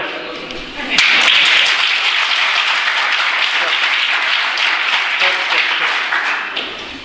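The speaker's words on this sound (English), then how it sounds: "When I lift my hand, you must clap." Engineering college students applaud together in a dense, loud burst of clapping that starts abruptly, holds steady and then tapers off toward the end.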